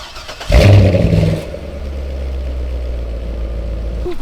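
A Chevrolet Corvette engine cranks and catches with a loud burst, then settles into a steady, rumbling idle close by.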